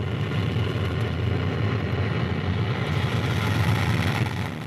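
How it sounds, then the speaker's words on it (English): Launch of the European Space Agency's Gaia spacecraft in December 2013, a steady, dense rocket roar with deep rumble and broadband hiss that holds constant throughout. "this is the sound of the launch of the European Space Agency's Gaia spacecraft in December 2013"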